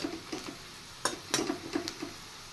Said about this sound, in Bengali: আর আমি পেঁয়াজটা লাল করে ফ্রাই করে নেব।